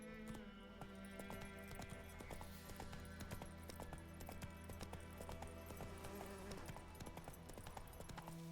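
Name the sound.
horse hooves galloping in video game Witcher 3: Wild Hunt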